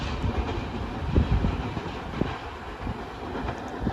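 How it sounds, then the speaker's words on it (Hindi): The Sir Syed Express passes through Lundo railway station at good speed: a close, steady rumble with rattling wheel clicks and clatter throughout. "उसने हमें ओवरटेक किया है लुंडो रेलवे स्टेशन पर और अच्छी रफ्तार में गुजरी है यहाँ से वो"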